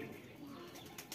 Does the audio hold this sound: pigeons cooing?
yes